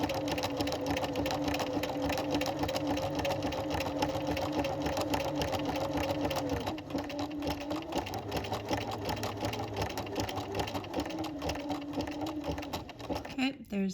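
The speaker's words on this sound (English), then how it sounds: "It's building the top of my buttonhole, and then it's gonna come all the way down the right hand side." A sewing machine stitches the top and then the right-hand side of a buttonhole, its motor whirring in a fast, steady, continuous run that eases slightly partway through, with a voice talking over it.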